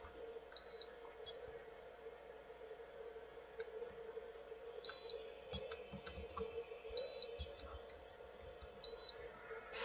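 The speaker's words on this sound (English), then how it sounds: "It just beeps, nothing." An Actron Elite AutoScanner CP9185 handheld automotive scan tool, stuck after a failed update, gives several short, faint electronic beeps at irregular intervals over a quiet room hum.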